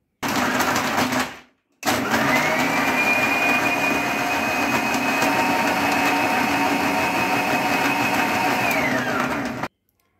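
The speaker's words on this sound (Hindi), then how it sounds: "इसके बाद मिक्सी चलाकर इसको अच्छे से इस मिक्स कर लेते हैं" A loud, steady electric mixer grinder blending cold coffee whirs continuously for several seconds after a brief stop, a high whine riding over the churning motor noise.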